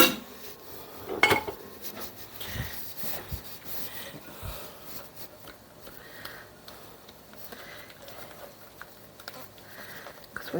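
A spatula scrapes and spreads a pinto bean casserole in a baking dish, giving soft scraping and rubbing sounds with a few light knocks against the dish, fairly quiet throughout.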